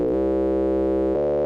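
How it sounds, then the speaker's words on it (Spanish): Steady sine wave from the Vital synthesizer with FM modulation, pitched down by octaves, a sustained buzzy tone with rich harmonics that shifts slightly lower near the end, loud and alone. "Y tengo esto, la onda senoidal y su modulación FM."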